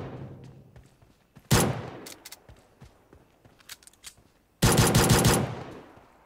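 Gunfire in the mobile battle royale game PUBG Mobile: a loud burst of automatic shots, then scattered single cracks, and finally a longer sustained volley near the end, with no talking.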